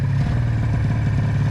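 A snowmobile that sat ten years in a storage container idles with a steady, loud, close mechanical drone and light clatter, running alone without talk.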